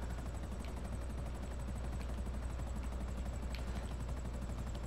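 Helicopter flying in GTA V, a steady rotor drone with rhythmic chopping that stays loud and continuous throughout, with no talk over it.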